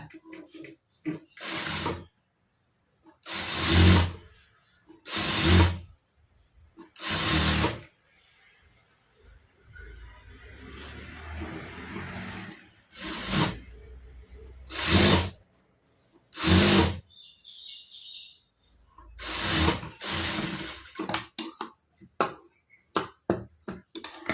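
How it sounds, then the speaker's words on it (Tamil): A sewing machine stitches a folded blouse hem in repeated short bursts of rapid whirring, each lasting a second or two, separated by quiet pauses, close and fairly loud. "மறுபடியும் இந்த மாதிரி மடித்து தைச்சிக்கோங்க"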